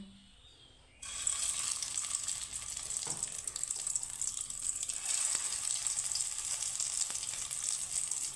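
Soy chunk balls fry in a pan of hot oil, a dense, steady sizzle that bursts in loudly after a second of quiet and stays constant, with a few faint clinks under it.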